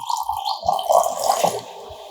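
Pirandai (veldt grape) herbal decoction poured into a cup, a continuous close liquid stream that gurgles and splashes for about two seconds with no talk.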